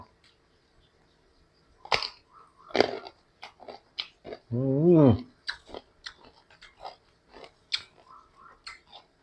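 Crunchy bites of green mango dipped in jaew pla ra, sharp close chewing crackles in short bursts with pauses, plus a brief murmured vocal sound in the middle.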